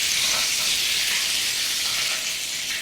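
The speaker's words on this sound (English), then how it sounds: "So just get some colour on these sausages." Italian sausages fry in a pan with a steady, dense, close-up sizzle, and no talking is heard.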